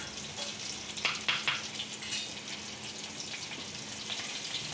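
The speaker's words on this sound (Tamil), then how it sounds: "கருவேப்பிலை நல்லா பொரியும்." Curry leaves, cinnamon sticks and fennel seeds crackle in hot oil in a pan for urundai kuzhambu, a steady close sizzle with a few sharper pops near the start.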